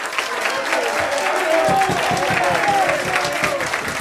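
Audience applause at an Erasmus+ welcome reception, a steady round of clapping from a crowd with a few voices mixed in, fairly loud and continuous throughout.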